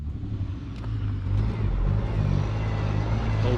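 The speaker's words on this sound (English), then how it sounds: "Old truck sounds good." An old Chevy 1600 rollback truck, probably with a 345 engine, idles at a steady low rumble close by, the level rising slightly partway through.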